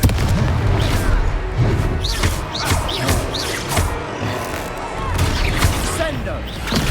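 Blasting-spell explosions in a Hogwarts Legacy boss battle at Hogsmeade, repeated bursts and crashes over loud, dense game music and effects, with voices shouting throughout.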